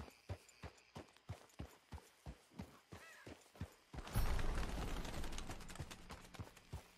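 Horse hooves clip-clopping in Red Dead Redemption 2, a steady run of evenly spaced hoof strikes up close, then a sudden loud surge of rushing, scuffling noise in the last few seconds as the horse rears and plunges.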